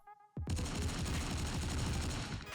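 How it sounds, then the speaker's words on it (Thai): Sustained automatic gunfire in the mobile game Fortnite Mobile Lite, bursting in abruptly after a brief quiet moment and continuing as a dense, loud, rapid volley to the end. "เสียงปืนค่อนข้างแน่น"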